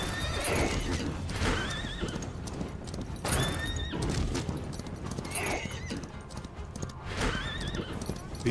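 Horse in the Western game Far Far West whinnies several times, rising squeals at regular intervals over steady clip-clopping hooves and a busy game soundscape.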